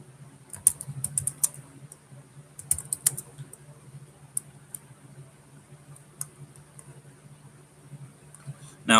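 Someone types on a computer keyboard during a live stream, producing a quiet, irregular run of light key clicks in bursts with short pauses. A louder knock comes near the end.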